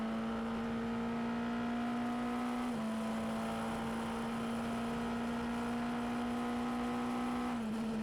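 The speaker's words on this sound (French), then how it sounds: "Accélération progressive avant de monter les rapports jusqu'en 6e pour le virage numéro 6" Race car engine at the Estoril circuit during a 2019 Ultimate Cup Series event holds a steady, even drone under acceleration, with a brief dip at each of two quick upshifts.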